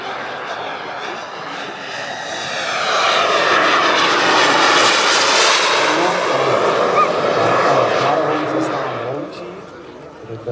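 An RC Super Scorpion model jet flying at the Jets Over Czech air show gives a steady, loud turbine roar that swells toward the middle of its pass and eases off near the end, with an announcer talking over it throughout.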